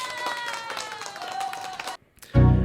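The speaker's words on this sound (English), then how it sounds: "Big applause. Big applause." Steady rapid clapping from a small group goes on for a couple of seconds, breaks off briefly, then a loud low burst of noise cuts in.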